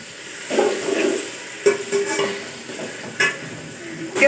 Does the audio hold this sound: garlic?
yes